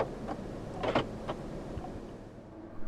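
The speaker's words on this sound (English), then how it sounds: "Central locking." The central locking of a 2018 BMW M2 Coupe sounds as a quiet cluster of short mechanical clunks and whirs near the one-second mark, with faint cabin ambience around them.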